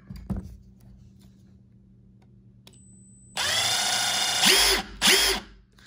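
A Milwaukee M18 impact driver converted to a 1/2-inch impact wrench runs close by: a sudden loud motor whine, then two short revving bursts, and no talking.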